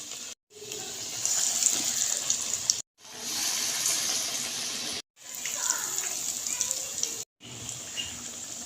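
Pakoras frying in hot oil in a home kitchen, a steady loud sizzling hiss in four bursts separated by brief silent gaps, with no talking.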